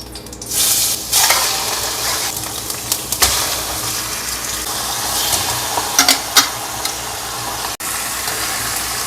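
Beef sizzles loudly in hot oil in a home kitchen pan, a steady crackling hiss with scattered pops and stirring clatter throughout, close and without talk.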